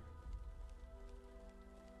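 Soft, steady rain patters in the video game My Little Blacksmith Shop, faint and continuous beneath a low sustained tonal hum.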